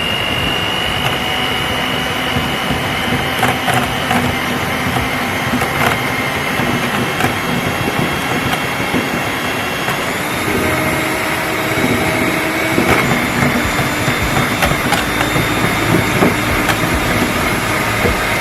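An electric mixer whirring through waffle batter, a loud, continuous high-pitched motor whine with rattling texture that runs steadily throughout, close and alone without talk.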